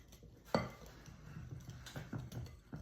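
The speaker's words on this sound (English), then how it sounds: "Okay, so just go ahead and mix the crust." Crust of flour, butter and brown sugar being mixed for pie bars, with a sharp utensil clank against the bowl, then soft scraping and light clinks throughout, fairly quiet.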